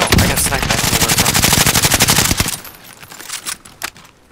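Rapid automatic gunfire in the Call of Duty Caldera map, a loud, close burst of fast shots that stops after a couple of seconds, followed by a few scattered quieter pops.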